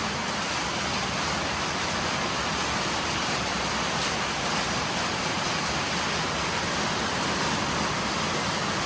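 Heavy morning rain pours steadily and evenly, a dense unbroken hiss that stays loud from start to finish with no voices.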